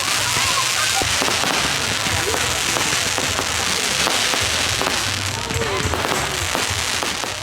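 A Bonfire Night fireworks display in Leicester, England fills the air with dense, continuous crackling and popping bursts, loud and close, with crowd noise underneath.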